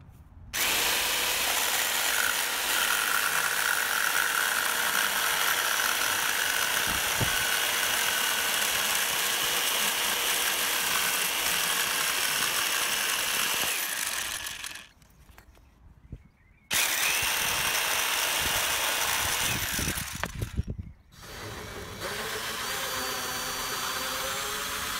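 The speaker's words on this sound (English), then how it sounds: "now we can just cut that out with the jigsaw" Jigsaw cutting through a vinyl headliner for a Mercedes Sprinter camper van ceiling: a loud, continuous buzzing whine of the reciprocating blade, close up, stopping twice briefly before resuming.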